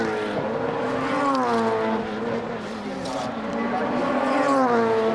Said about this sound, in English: it's amazing how the Opel of Stefano Modena, who is a lap car, is staying right there with Schneider